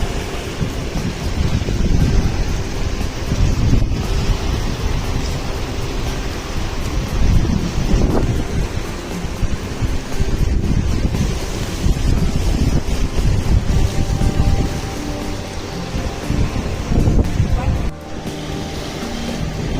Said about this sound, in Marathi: एवढं फास्टली पाणी येत आहे का आवाज बी बघू शकता